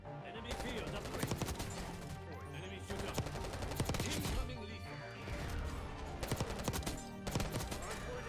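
Bursts of C9 10mm Auto submachine gun fire with a 30-round magazine in Call of Duty, repeated rapid volleys running through nearly the whole stretch, loud and dense, with a voice talking over parts of it.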